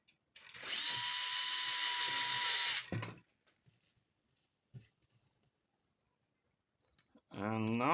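A power drill driving screws into a swinging stand during assembly whirs loudly for a few seconds, then stops, leaving a few faint clicks and handling taps before a voice speaks.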